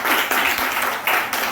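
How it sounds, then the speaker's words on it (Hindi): An audience at a village school function applauds for a girl who won medals, a burst of dense clapping from many hands, loud and close, with a brief dip midway before swelling again. "सविता के लिए एक बार जोरदार तालियां बजाएंगे"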